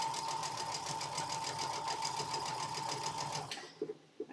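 A domestic sewing machine stitches a Christmas table runner with a steady, fast, humming mechanical rattle that runs evenly for about three and a half seconds, then stops, leaving a few soft clicks.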